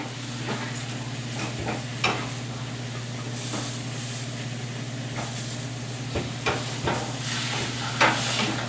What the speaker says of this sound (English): So while this is all cooking down, our burger patty is rocking.